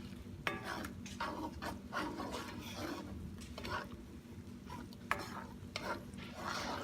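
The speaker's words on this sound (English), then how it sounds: "And we have to stir this again." Parmesan cream sauce for shrimp fettuccine Alfredo being stirred in a pan, a quiet bubbling simmer with repeated soft scrapes and occasional utensil clinks, close but low in level.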